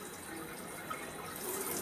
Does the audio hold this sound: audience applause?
no